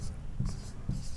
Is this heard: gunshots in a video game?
no